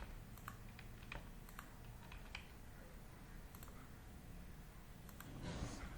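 Fingers tap out bursts of quick, light keystrokes on a computer keyboard, quiet and close with short pauses between runs.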